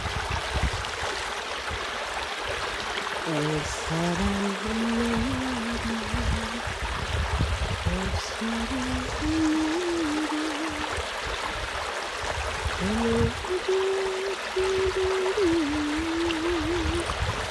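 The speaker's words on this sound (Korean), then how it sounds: "시골 저수지 물내려가는데" Water running down from a rural reservoir in the countryside, a steady close rushing flow with soft gurgling, while a faint whistling tone rises and falls over it.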